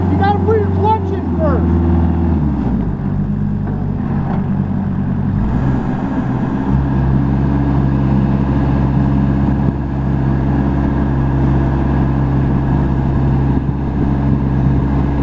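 A 2009 Finn T90 hydro seeder's engine running loud and close, a deep steady drone that shifts pitch as it winds up, with people talking over it.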